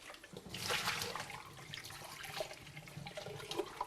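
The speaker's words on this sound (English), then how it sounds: "I just want to rinse this" Running tap water splashing as something is rinsed in a kitchen sink, a close, continuous watery rush with uneven gurgles, no talking.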